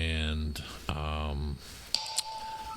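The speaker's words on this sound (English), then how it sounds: "my phone decided it wanted to give me a notification" A phone notification chimes, a short pair of bright electronic tones arriving near the end, following a man's speech and heard fairly close.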